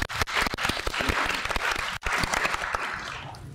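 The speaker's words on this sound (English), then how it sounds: "I think that deserves a round of applause." A conference panel audience claps in a lively burst, with close individual hand claps over a crowd wash, a brief dip midway, then continuing applause that slowly thins.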